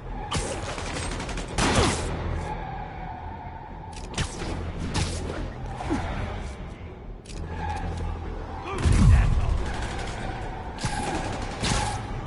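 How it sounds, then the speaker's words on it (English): Gunfire during a high-speed chase in a Spider-Man video game, sharp bursts and volleys over engine drone and whooshes, with mechanical clatter throughout and voices in the mix. "a high-speed chase with indiscriminate gunfire"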